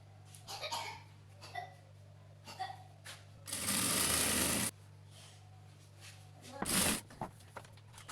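A sewing machine runs in two bursts, one about a second long and a shorter one after it, while stitching the neck of a dress on the reverse side. Quiet handling noises and a steady low hum come between the bursts.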